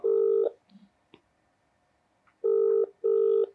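An outgoing phone call rings through the handset: loud, steady buzzing ringback tones, one at the start, then a pause with faint clicks, then two more in quick succession.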